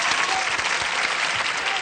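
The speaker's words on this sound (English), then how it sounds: "starting to clap her hands." A television game-show studio audience on Classic Concentration gives a loud, sustained round of applause that stays dense and even throughout.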